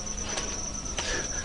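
Crickets on an Indonesian cricket farm keep up a steady, high, continuous chirping drone, with a couple of brief louder rustling bursts over it and faint voices in the background.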